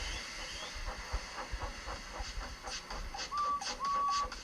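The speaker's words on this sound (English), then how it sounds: "So they lit his fire, made lots of steam, and Edward puffed away." Steam locomotive hissing and chuffing in rhythmic puffs, with a couple of short whistle tones near the end.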